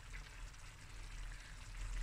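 Water is poured into a pot of lamb and butternut stew, a quiet close trickle and splash that runs steadily for a couple of seconds.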